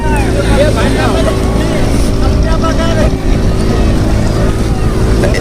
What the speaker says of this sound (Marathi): ह्या चार बोट चालत आहेत